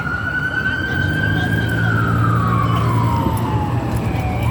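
Emergency vehicle siren on a city street in East New York, a long wailing tone sweeping slowly up and down, loud and steady over rumbling traffic for the whole stretch.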